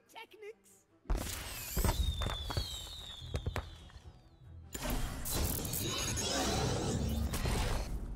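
Pyrotechnics effect from the card game Legends of Runeterra: a whooshing launch with rising whistles and scattered bangs, then a loud, dense crackling burst that sustains to the end, with voices underneath.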